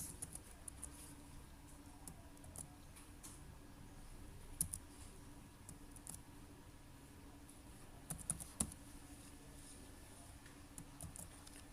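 Quiet, close-up taps and clicks of a computer keyboard and mouse, scattered irregularly over a low room hum with no talking.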